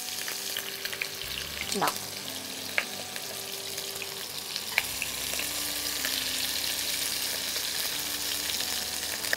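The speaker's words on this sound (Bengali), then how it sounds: "তারপরে আলু আর বেগুনটা এর মধ্যে দিয়ে দেবে। ভালো করে ভেজে নিতে হবে।" Potatoes and eggplant fry in a pan with a loud, continuous sizzle, accompanied by a few spoon clinks and stirring scrapes, and a faint tonal hum underneath.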